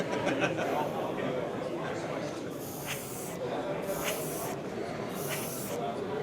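Three short bursts of spray hissing over steady background noise, evenly spaced about a second apart, with a voice talking underneath.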